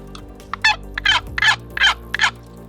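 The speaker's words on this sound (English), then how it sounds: "start off with a box call" A box call yelps in a steady series of about six raspy, turkey-like notes, loud and close with short gaps between them.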